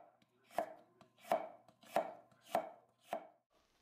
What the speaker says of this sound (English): Cut coconut lengthwise into thin slices